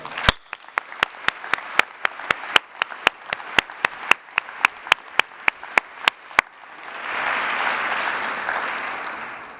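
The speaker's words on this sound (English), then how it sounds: "will you please join me in another round of applause for Peter Corke and Stu Shepherd." Audience applause at a robotics awards ceremony: a single person's sharp, evenly spaced claps for about six seconds, then a brief gap before a fuller burst of crowd clapping swells and holds steady.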